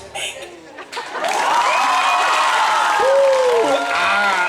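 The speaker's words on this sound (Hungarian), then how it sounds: "Minden lány rájuk figyelt és nagy tapsal jutalmazott benneteket." A crowd applauds and cheers after a school class's stage performance, a steady wash of clapping that swells after a moment and holds loud throughout, with a few whoops and some chatter mixed in.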